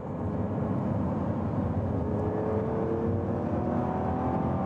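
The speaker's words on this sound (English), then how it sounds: "Listen to the V12." Lamborghini Revuelto V12 hybrid with 1,000 horsepower accelerating, a steady, loud, dense engine roar with a rising tone held throughout, no voices over it.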